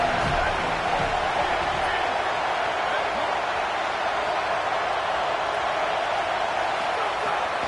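American football stadium crowd roaring as the visiting offense lines up, a constant, loud, broadband roar that does not let up, with a play-by-play announcer talking over it.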